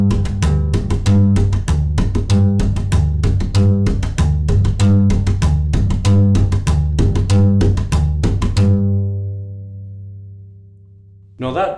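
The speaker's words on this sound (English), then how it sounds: "And what you'd be doing in between the two separate notes is hitting the fingerboard twice." A rockabilly upright bass is slapped, the fingerboard struck twice between plucked notes for a fast, percussive clicking pulse, loud and close, which stops with a ringing note fading out.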